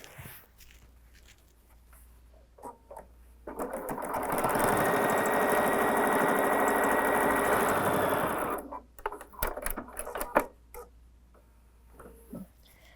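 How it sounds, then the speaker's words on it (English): A sewing machine stitches a 1/4-inch seam along the open edge of a fabric tote bag, running steadily for about five seconds between quieter handling sounds of fabric and the machine. "Take this to your machine. I like to sew the open edge first with a 1/4 inch seam"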